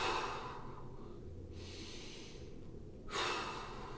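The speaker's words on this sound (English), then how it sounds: "2 big breaths here." Big breaths during a stretching exercise in a fitness class: a long, close inhale, a pause, then a strong exhale, with quiet room noise between breaths.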